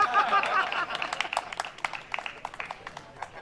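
Audience applause at a Hindi poetry recital: a crowd claps in a dense, scattered patter that stays moderately loud and gradually thins into separate claps by the end.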